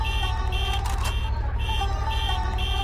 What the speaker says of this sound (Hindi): गाइस मुझे रिक्शा के हॉर्न का आवाज सुनो